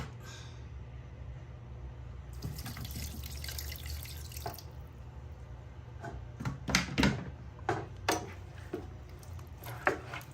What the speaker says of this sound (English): and we're gonna add water.